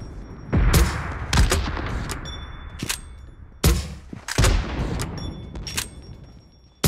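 Gunfire crackles in a PUBG match: sharp single shots and short bursts ring out at irregular intervals across several seconds, echoing with a distant, rolling tail.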